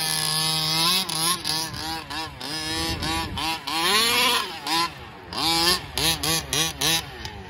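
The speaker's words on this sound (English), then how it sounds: "A lot of fun with that two-stroke motor." Two-stroke motor of an HPI Baja 5T RC car buzzing and revving up and down in quick rises and falls, loud and close throughout.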